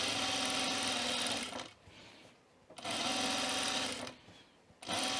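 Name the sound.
sewing machine top stitching a shirt yoke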